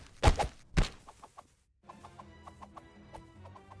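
Cartoonish chickens cluck in the battle game Totally Accurate Battle Simulator, two loud bursts followed by a quick run of short, evenly spaced clucks, close and clear with no speech.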